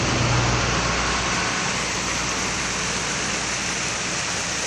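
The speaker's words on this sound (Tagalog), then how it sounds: "Ayan po ang falls nila" A waterfall at Barangay Tignuan, Real, Quezon roars as a dense, steady wash of falling water, loud and continuous throughout, with no voices.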